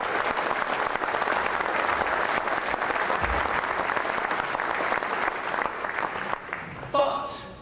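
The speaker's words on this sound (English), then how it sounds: "you all deserve a strong round of applause" A large party conference audience in Bournemouth gives sustained, even applause that fills the hall, then thins and fades out near the end.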